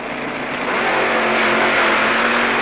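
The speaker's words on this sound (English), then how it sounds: "the car in the far lane is Graham Hawes, Black Magic, 427 Chevy Funny Car" A 427 Chevy funny car at a 1978 drag race, its engine holding a loud, steady, raw roar throughout without a break.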